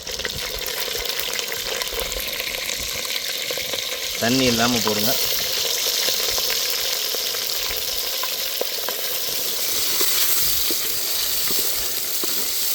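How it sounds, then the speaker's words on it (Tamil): Cut dried fish sizzling and frying in hot oil in a pan, a steady close crackle and hiss throughout, with a brief voice speaking partway through. "இந்த மாதிரி வெட்டி வச்ச கருவாடை எண்ணெயில் நல்லா வதக்கிக்கும்"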